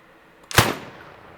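A single sharp gunshot cracks out, loud and close, then trails off in a short fading echo.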